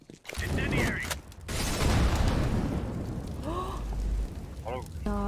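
Gunfire and an incendiary grenade in the game CS:GO: a loud burst of shots and blasts that fills most of the stretch, then fiery roaring under sharp bursts, with game voices calling out.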